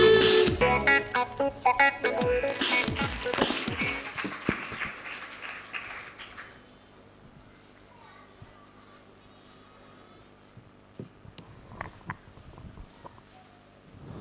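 Audience applause after children sing a Telugu Christian song at a live Bible school performance, loud clapping in the first five seconds that thins out and fades to a quiet room with scattered noise.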